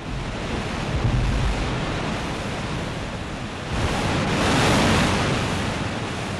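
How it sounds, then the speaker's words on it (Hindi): Kaveri river waterfall at Shivanasamudram roars as a continuous broadband rush of falling water, steady and loud, swelling slightly toward the end. "ये देखिए, इस नदी पर ये पहला निर्झर है यानी जलप्रपात।"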